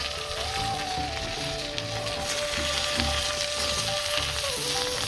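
Eggplant added to a pan of fried meat for Rupchand fish curry sizzles with a soft, steady hiss beneath a sustained musical tone, with no talking.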